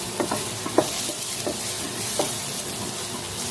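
Chopped garlic sizzles in a hot pan, a steady frying hiss broken by a few scraping stir strokes, close and continuous with no talking.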